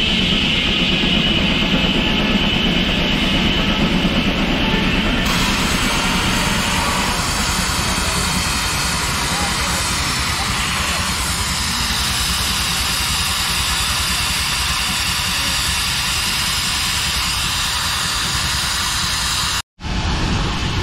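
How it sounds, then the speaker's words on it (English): An Eclipse steam tractor drives a sawmill at a gas engine and tractor show, giving a steady, loud mechanical roar and hiss that runs nearly unbroken, with a brief dropout near the end. "They got a Eclipse steam tractor here running the sawmill."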